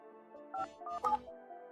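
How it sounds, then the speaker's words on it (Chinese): Several short telephone keypad tones beep in quick succession over a soft, steady tonal background. "我这就给大山打电话。"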